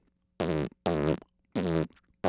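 A beatboxer imitates a quick fart noise with the lips, giving four loud, buzzy bursts in an even rhythm, each about a third of a second long, with short gaps between them.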